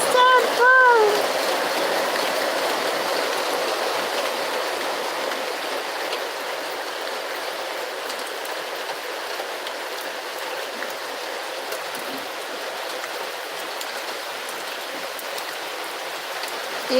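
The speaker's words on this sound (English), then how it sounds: "Just wanted you to see the rain is falling." Steady rain falls outdoors in Jamaica, a continuous even hiss of drops that fills the whole stretch, with a brief faint voice-like sound near the start.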